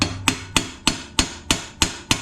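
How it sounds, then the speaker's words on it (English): A hammer taps a blade onto a Troy-Bilt TB130 push mower with a Honda GCV160 engine, eight sharp, evenly spaced metallic strikes close up, each ringing briefly before the next. "Get me a hammer. I'm gonna tap that on a little bit."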